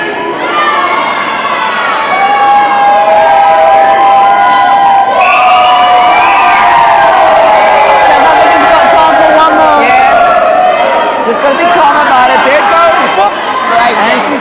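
A large indoor crowd cheers and shouts continuously in the closing seconds of the Ladies Open gold final of the 2014 Indoor Netball World Cup, Australia against South Africa, with high excited voices rising and swelling throughout, loud and close.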